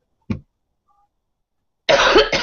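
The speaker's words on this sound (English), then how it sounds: "Feels like I'm coughing up my guts" A man's single short cough, close and dry, followed after a pause by a rougher burst of coughing and throat noise, with nothing else around it.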